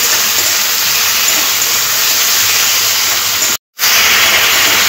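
Potato, ridge gourd and tomato fry in a pan with a steady, dense hiss that fills the whole stretch, broken by a brief near-silent gap just past the midpoint before resuming.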